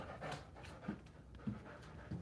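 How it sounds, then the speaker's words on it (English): A dog panting steadily nearby, rhythmic soft breaths repeating about every half second, fairly quiet against a faint room background. "Goofy dog."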